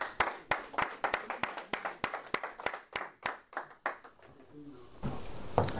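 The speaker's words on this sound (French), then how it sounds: "On applaudit pour Edgar." A small studio audience claps for a guest named Edgar, with distinct rhythmic hand claps at a steady pulse that loosen into scattered, softer clapping before a voice resumes at the end.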